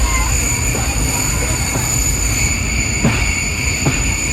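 Steady rumble of a train on railway tracks near a coal yard, loud and continuous, with faint periodic clanks and a high tonal whine over the roar.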